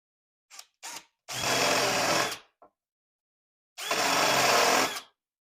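Power drill countersinking screw holes in a metal dust shroud plate, a couple of brief blips, then two sustained whirring bursts of about a second each separated by silence, close and clear.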